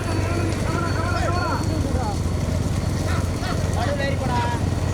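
Bulls pound along in a Tamil bullock cart race, a dense rumble of hooves and cart noise with loud shouting voices and crowd commotion continuously over it.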